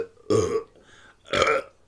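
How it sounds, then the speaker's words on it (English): Two big, loud, close burps, one after another with a short pause between them, and no talk over them. "when a big burp sneaks up on you"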